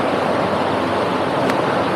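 Water flows across a shallow ford on a Somerset route, a loud, continuous broadband rush close by with no pauses.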